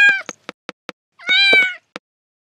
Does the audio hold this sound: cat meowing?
yes